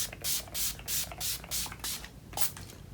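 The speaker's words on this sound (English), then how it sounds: "I am going to set this with the Mary Kay Makeup Finishing Spray." Mary Kay Makeup Finishing Spray misted onto a face in a rapid run of about eight short, airy pumps, close and fairly soft, followed by a slightly longer final burst.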